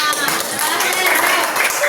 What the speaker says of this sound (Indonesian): Ada jelas tepuk tangan untuk kelompok 5.